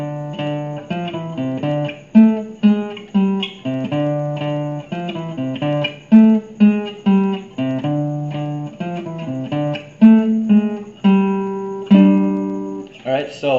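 Guitar plays a riff, a repeating low single-note figure plucked in a steady loop, close and clear with no voices.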